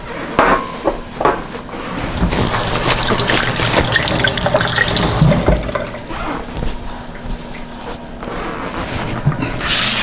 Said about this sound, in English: I'm gonna wash my hands quick.